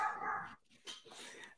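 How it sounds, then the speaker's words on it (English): A dog barks in the background of a home interview setting, one or two short barks and a whimpering yip heard over room tone. "Also, I apologize for my dog."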